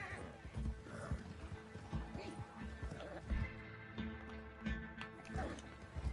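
A horse in the video game Red Dead Redemption II, with hoof clip-clops and a whinny, faint and mixed under game sounds and a low voice.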